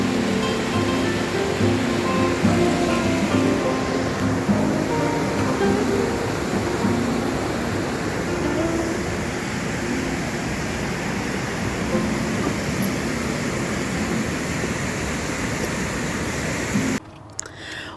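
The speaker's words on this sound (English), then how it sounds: "The falls were beautiful and the sound of the running water was so soothing." Running water of Provoking Falls in Algonquin Provincial Park makes a steady, close rushing roar that holds even and unbroken throughout, then cuts off abruptly at the very end.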